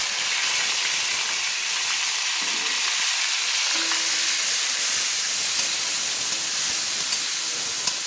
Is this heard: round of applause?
no